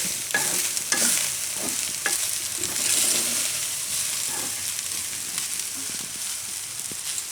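Sprouted fenugreek pulao is stirred in a pot just after fresh coriander goes in, spoon scrapes and knocks over a faint, soft sizzle, close and unhurried.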